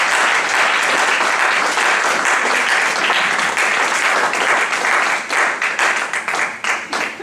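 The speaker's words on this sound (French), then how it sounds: "acclamons pour le Seigneur" Church congregation applauding together, a dense, loud and sustained wash of clapping that thins into more separate claps toward the end.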